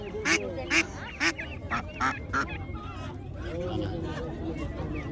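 Several loud, honking quacks from ducks close by in the first half, fading into a busy background of murmuring voices and farmyard noise.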